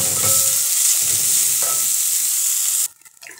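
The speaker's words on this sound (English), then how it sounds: "Stir until it is well incorporated." Red and spring onions fry and are stirred in a pan, giving a loud, close sizzle with scraping strokes that cuts off abruptly near the end, leaving quiet handling noises.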